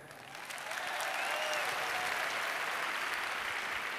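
A roomful of audience members clapping hands at a health talk, a dense steady wash of applause rising quickly and holding evenly loud throughout.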